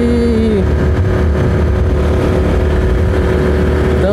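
Honda Pop 110i motorcycle riding along the road, its engine droning loud and close with a rising rev at the start and again at the end, steady wind and road noise underneath.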